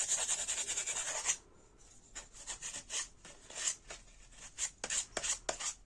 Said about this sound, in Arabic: هجيب صنفرة ناعمة خالص كده وابدأ اصنفر بشويش خالص